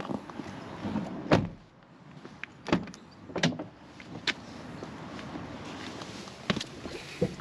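The stiff window winders of a cheap used Fiat Panda are operated, producing several sharp mechanical clunks and creaks spaced a second or so apart over a quiet car interior, without talk.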